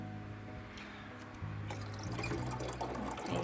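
Water drips and trickles into a sink from a cool and warm mist humidifier, a faint nearby patter of drops over a steady low hum, with no talk.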